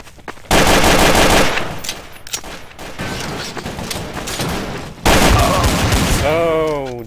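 Rapid, loud gunfire in Counter-Strike: Source, including Desert Eagle pistol shots, comes in two dense bursts with game noise between them.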